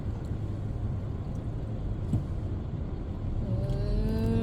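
Steady road traffic and car engine rumble heard from inside a moving car during an after-work drive in America, a continuous low drone with a brief louder swell near the end.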